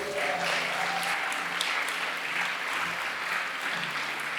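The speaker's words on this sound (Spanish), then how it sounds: "Vamos, aplaude fuertemente al Señor" Church congregation applauding loudly and steadily during a Spanish-language sermon, a dense continuous wash of clapping with some voices and a low musical tone underneath.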